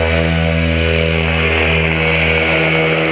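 A paramotor engine runs at full throttle during a training flight at an airfield, giving a loud, steady, high-pitched droning roar with strong even harmonics that holds without a break for the whole stretch, and no one speaking over it.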